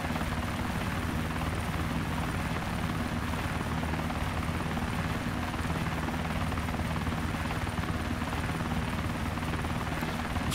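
An Osprey tiltrotor aircraft flying in the DayZ Overpoch video game, a loud continuous rotor and engine drone with a steady throbbing hum that carries on unbroken throughout.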